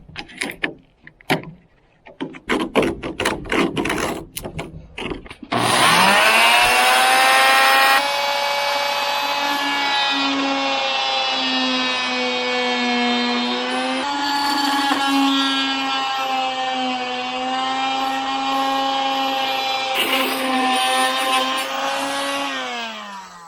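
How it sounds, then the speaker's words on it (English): An oscillating multi-tool cuts rotten wood out of a cracked section of a sailboat, its steady high-pitched buzzing running continuously and loud after several seconds of lighter tapping and scraping, with slight changes in pitch as it bites. "using the oscillating tool, I've got a ton of the rot out"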